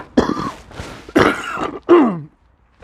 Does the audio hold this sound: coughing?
yes